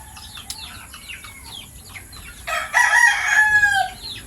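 A Texas gamefowl rooster clucks and chirps in short bursts before letting out one loud, full crow near the end, all close by with no talk.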